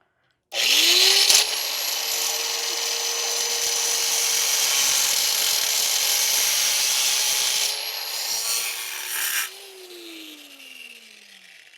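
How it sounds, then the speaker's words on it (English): Cut-off wheel grinding through metal in a garage on a '67 build, a loud steady high-pitched whine that spins up sharply, holds for several seconds while cutting, then winds down. "I'm gonna use the death wheel"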